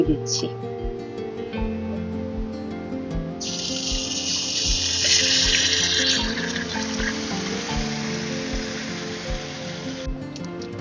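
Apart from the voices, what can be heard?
marinated chicken frying with onion and garlic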